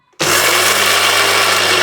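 A mixer grinder starting abruptly and running loud and steady, whirring as it grinds peanuts with fresh coriander, a continuous high motor roar with no talk.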